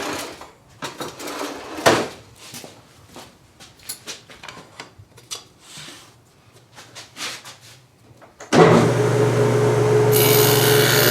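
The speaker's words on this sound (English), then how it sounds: "So I'll run that, plug my saw in real quick here. We set our depth to 1/8 of an inch on this." A power saw set to a 1/8 inch depth starts up and cuts into wood with a loud, steady whine after a stretch of quieter shuffling, rubbing and handling sounds.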